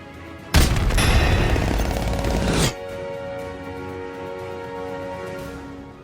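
A sustained burst of AK-47 automatic fire from the Call of Duty video game, loud and continuous for about two seconds before cutting off abruptly into quiet.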